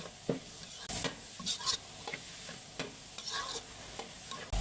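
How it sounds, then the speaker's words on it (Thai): Minced pork and green garlic are stir-fried in a hot pan, giving a soft sizzle broken by irregular spatula scrapes and clatters close by; the sound is fairly quiet, and nobody speaks. "กระเทียมตัวก็ผัดให้เข้ากันนะทุกคน"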